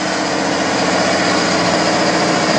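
A runaway Peterbilt truck engine roars steadily at high, dense revs while blowing coolant, a loud continuous drone with a faint hint of the idle beginning to sag.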